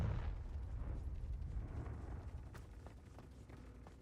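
A Confringo blasting spell in Hogwarts Legacy goes off as a loud, rumbling explosion that fades out slowly over several seconds, with faint crackling debris bursts near the end and no talk.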